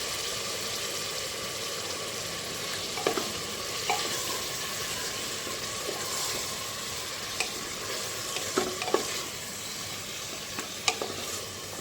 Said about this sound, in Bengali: আদা বাটা, রসুন বাটা আর শুকনো লঙ্কা বাটাটা দিয়ে দিলাম।